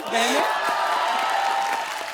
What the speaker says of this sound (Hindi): आज हमारे शो पे 2 बहनें आई हैं, जोरदार तालियां हो जाएं